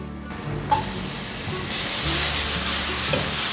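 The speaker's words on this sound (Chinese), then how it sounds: "把金针菇炒软，炒至金针菇变软了。" Enoki mushrooms stir-fried with shredded ginger in olive oil in a pan: a loud, steady broadband sizzle that swells after a soft clatter near the start, with occasional scrapes of stirring, no talk.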